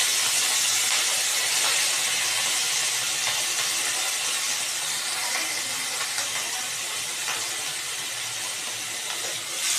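Chopped onion pieces frying in hot oil for a mutton-fat pumpkin dish, giving a steady broadband sizzle and hiss that stays even and close throughout, with no talking.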